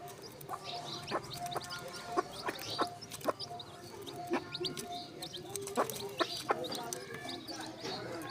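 A mother hen clucks repeatedly near her chicks in a goat shed, short rhythmic calls with a few higher chirps mixed in over a low background hum.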